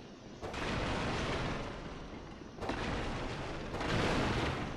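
Three heavy, booming firearm shots from the video game Bloodborne, each a loud sudden blast trailing into a rumbling decay, spaced a couple of seconds apart over ambient game noise.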